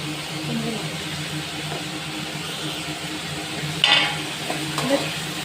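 Spices stirred and fried in hot oil for a raw mango pickle, a continuous close sizzle with a few metal spoon clinks against the pan near the end.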